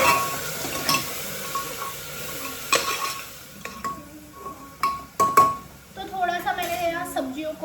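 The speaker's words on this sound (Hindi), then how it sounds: "सब्जियों को भी ऑयल में अच्छे से फ्राई किया है 2 मिनट" Vegetables fry in oil in a pan with a continuous hiss, broken by clinks and scrapes of a utensil against the pan and louder stirring bursts toward the end.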